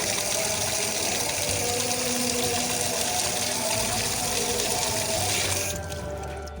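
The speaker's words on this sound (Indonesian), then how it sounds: "Kita nyalakan kembali aliran airnya." Water gushes steadily from a newly installed plastic faucet into a sink, a loud continuous rush that cuts off abruptly near the end.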